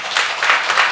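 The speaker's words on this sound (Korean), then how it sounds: "우리 박수로 한번 환영하시죠" During a Sunday church service, the congregation breaks into brief, even applause in soft swells to welcome an engaged couple.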